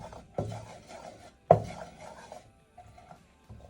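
Garlic and onions cooking in a pot are stirred with a spoon, giving two sharp knocks against the pot and soft scraping and shuffling between them, close and fairly quiet.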